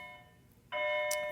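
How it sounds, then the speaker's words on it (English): A bell rings out in a classroom during a maths lecture, a sustained electric tone with steady harmonics that starts abruptly and holds loud with a bright ping partway, following a quiet room tone. "there goes that bell again"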